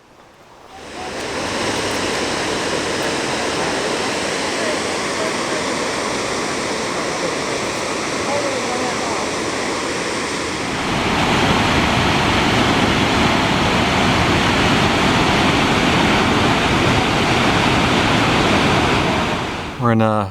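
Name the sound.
roadside waterfall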